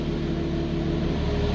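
A Lotus Exige 390 Final Edition idles with its exhaust flap open, giving a steady, close low rumble with a constant hum and no revving across the short stretch.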